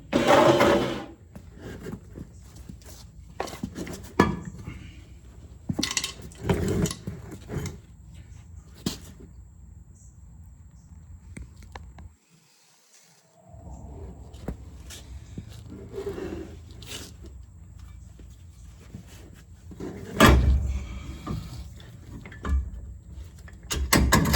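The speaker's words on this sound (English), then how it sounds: "We're going to go ahead and put the rotor and hub assembly back on." A heavy rear rotor and hub assembly is refitted onto a 2006 Chevy 3500 dually, giving scattered close metallic clunks, scrapes and knocks with quiet pauses between them.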